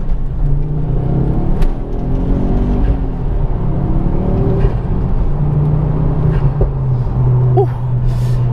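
A Ford Focus RS Mk2 engine drones steadily from inside the car while driving, a continuous low rumble with slight swells in pitch as revs rise and fall.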